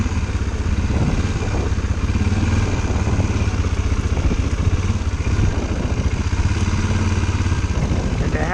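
A quad ATV engine runs steadily on a Connecticut trail, a loud, close, rumbling drone with rattling clatter and no speech.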